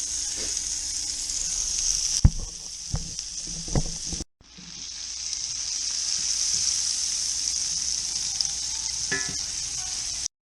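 Half-inch-thick filet mignon steaks frying in a pan, a loud, steady, hissing sizzle that fills the clip, briefly cut off and resuming, with a few sharp knocks and clinks of a utensil partway through.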